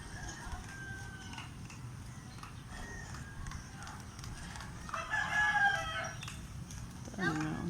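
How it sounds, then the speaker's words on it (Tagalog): Outdoors, a junglefowl crows and clucks faintly against a steady background hiss, with short calls scattered through and a brighter burst toward the end, fairly distant and quiet. "Manok nga ihas."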